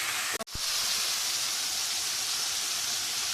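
Meat fries in a pan until it turns brown, giving a loud, even hiss close by. A brief double clunk sounds near the start, then the frying noise carries on unbroken.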